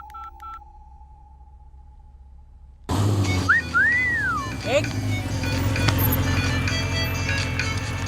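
A short electronic phone tone sounds at first, then a louder noisy scene follows with a rising-and-falling whistle-like ringtone over background voices.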